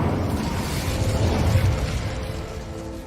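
A fire spell bursts with a broad explosive boom in Hogwarts Legacy, a sustained roaring blast that swells near the middle and trails off, loud and close with no voices.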